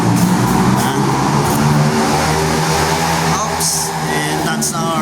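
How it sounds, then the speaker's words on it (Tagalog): A delivery truck arrives back from Bicol at a building's gate. A loud engine drones and revs close by, with a steady rumble and a few brief higher tire or brake squeaks, under a voice talking. "And that's our truck"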